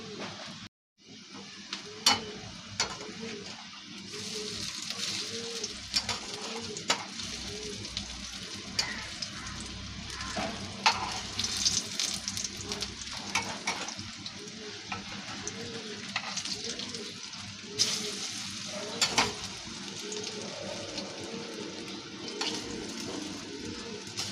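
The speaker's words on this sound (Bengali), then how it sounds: "ধোকা চলো ভেজে নেওয়া যাক" Dhoka, lentil cakes, fry in a pan over medium-low flame. A constant crackling sizzle carries through, broken by sharp pops and occasional clinks.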